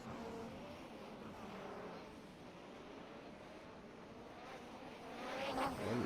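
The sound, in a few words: race car coming into the pits in a racing video game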